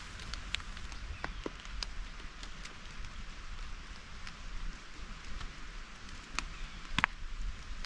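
Rain falls in a steady, faint hiss, with scattered sharper drops ticking at irregular moments against a surface nearby.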